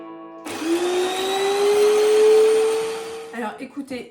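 A Moulinex electric grater runs for about three seconds with a steady motor whine that climbs slowly in pitch, then cuts off, leaving a few soft clatters and handling sounds.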